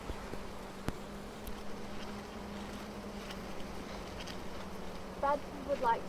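A low, steady buzz of many Italian honey bees (Apis mellifera) hums around a hive, with occasional faint chirps and a soft voice murmuring in the background.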